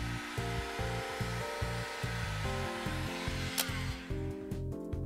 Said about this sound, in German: Ich benutze jetzt hier eine Heißluftpistole, aber ein gewöhnlicher Haartrockner reicht auch aus, um das Gerät ausreichend zu erwärmen.